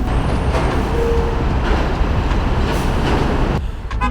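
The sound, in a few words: New York City train ride to Manhattan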